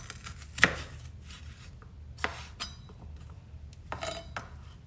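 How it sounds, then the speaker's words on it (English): A knife chopping celery on a cutting board for chicken salad, a few sharp separate cuts spaced unevenly with light clinks between, close and fairly quiet with no talking. "chop up the celery"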